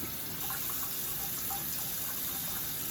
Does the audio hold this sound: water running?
yes